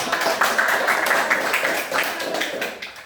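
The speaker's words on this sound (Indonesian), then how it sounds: "mari kita beri tepuk tangan untuk teman" Students in a classroom give applause to a group that has just presented, heard as a dense wash of clapping with a few voices mixed in.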